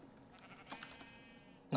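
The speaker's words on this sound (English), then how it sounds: "Shush, sheep." A sheep bleats in a Minecraft modpack game, a short, faint wavering cry over a quiet background, ending in a sharp louder click.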